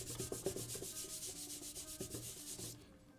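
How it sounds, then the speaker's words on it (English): A hand rubs back and forth over a pencil drawing on paper, quick close scratchy strokes in a steady rhythm that stop abruptly near the end. "I'm just gonna take my whole hand and rub it all over my drawing."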